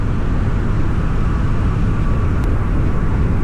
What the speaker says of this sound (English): I'm getting a lot of traffic noise because I'm on a busy freeway.